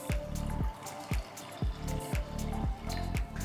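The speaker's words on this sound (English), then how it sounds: "Pour enough water so that the dals are completely immersed." Water pours and splashes into a metal pressure cooker over mixed dals in short repeated bursts, close and fairly quiet.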